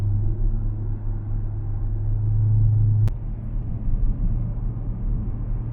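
A Mercedes CLS55 AMG Kompressor with a supercharged M113K V8 and a modified exhaust, driving on the road, gives a steady, loud low drone and rumble that drops to a rougher, quieter burble after a brief click midway.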